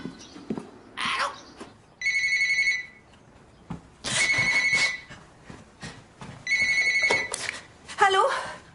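An old-style telephone bell rings in three long bursts at a scheduled hour, loud and near, with brief speech and sounds between the rings.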